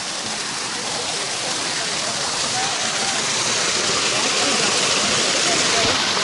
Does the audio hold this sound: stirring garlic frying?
no